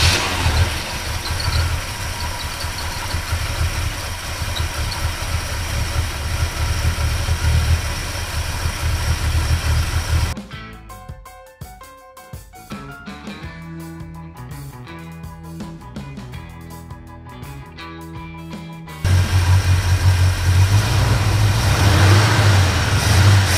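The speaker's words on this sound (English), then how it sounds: "So I'm gonna go start the truck." Engine of a 1977 Chevrolet C10 pickup truck idling steadily; it sounds close and loud, with a busier stretch in the middle as the motor catches or revs before settling back into a continuous idle.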